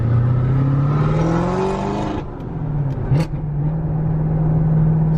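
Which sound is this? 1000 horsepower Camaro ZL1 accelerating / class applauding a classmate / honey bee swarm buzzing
1000 horsepower Camaro ZL1 accelerating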